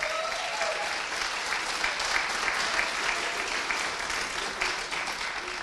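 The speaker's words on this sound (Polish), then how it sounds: "Duże brawa." A cabaret audience claps loudly and continuously for several seconds, a dense steady roar of applause filling the room.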